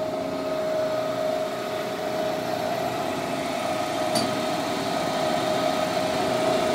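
A Robert Reiser Rotoclaw II frozen meat flaker runs with a steady mechanical hum and a constant high whine, a single faint click partway through, and no speech.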